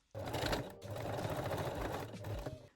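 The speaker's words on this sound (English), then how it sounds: "Now secure the strap loops with the straight stitch" A sewing machine runs a straight stitch to secure the strap loops on a lingerie bralette, a steady rapid mechanical whirr near and loud, with a short pause early on and a brief break near the end.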